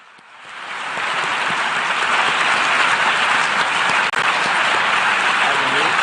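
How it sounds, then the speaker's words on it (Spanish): The United Nations General Assembly hall fills with loud, sustained applause for Volodymyr Zelensky, a dense roar of many hands that swells quickly and holds steady while a voice talks over it. "Volodymyr Zelensky recibiendo el aplauso de la Asamblea General de Naciones Unidas ahora."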